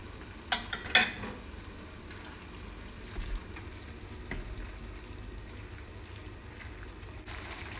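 Bean sprouts stir-fry in a pan with a soft, steady sizzle, broken early on by a few sharp clinks of a utensil against the pan, with no talking.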